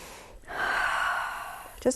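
A single long, deep inhale drawn through the mouth, close and steady, ending with a brief vocal sound.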